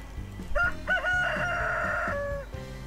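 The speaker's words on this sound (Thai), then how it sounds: "ไก่ขันแล้วเราก็ต้องตื่น" A rooster crows once in the video game Stardew Valley: a loud, drawn-out cock-a-doodle-doo with a few clucks before it, heard alone and up close.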